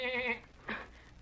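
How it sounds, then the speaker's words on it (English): A small black lamb bleats twice, a long wavering cry followed by a short one, close and fairly quiet with no other sound around it. "This little black lamb is lost"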